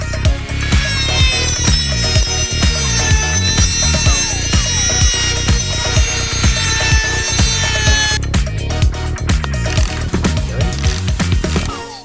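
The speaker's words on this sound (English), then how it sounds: "using the Dremel here to cut a slot so it enables us to be able to get a screwdriver in to get these pesky screws out" A Dremel rotary tool whines loudly and steadily at close range while it cuts slots into stubborn screws on an Audi TT. The tone shifts partway through as the cut changes, with no talking over it.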